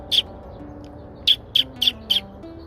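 A pair of house finches at a nest in a front-door wreath give sharp, high chirps: one, then a run of four quick calls, fairly close, over a low steady hum.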